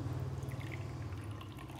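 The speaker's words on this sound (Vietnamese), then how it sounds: "bây giờ mình sẽ rót thử sang các cốc xem nào nhé" Water poured from a Bat Trang porcelain teapot with blue glaze and gold trim into matching porcelain cups, a steady close trickle with light splashing, unbroken by speech.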